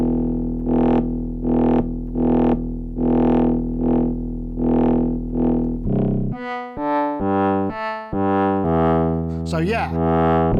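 Cre8audio East Beast and West Pest synth voices playing a run of separate sustained notes, first a steady repeating pattern, then brighter, buzzier tones as the envelope is adjusted, ending in a swept, resonant squelch.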